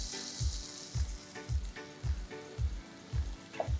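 Finely chopped onions frying in plain oil for a coconut macaroni pasta curry, a continuous hiss of sizzling with a regular series of low thuds beneath and no talking.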